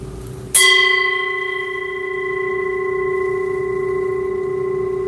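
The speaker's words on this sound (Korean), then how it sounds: "종소리가 점점점 잦아드는 것에 마음을 끝까지 두고 쫓아갑니다." A bell, in a guided meditation setting, is struck once, loud and clear, and its steady ringing tone then slowly fades away over several seconds with no other sounds.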